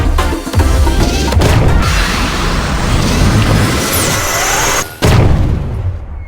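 A massive mega cannon blast in the video game Oversmash erupts into a loud, roaring rumble that rolls on for several seconds before cutting off abruptly.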